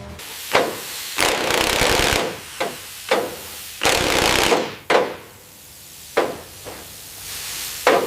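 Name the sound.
bolting fender flares onto a Jeep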